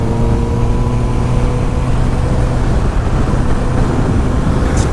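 A 2022 Honda CBR 650R BS6 motorcycle engine under way while riding, a loud steady drone with wind rush, close and continuous with no talk.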